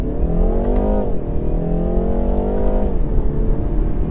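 A BMW 330i Touring accelerates hard toward 60 mph, its engine note climbing steadily in pitch, dipping briefly at a gear change, then rising again loud and close from inside the cabin.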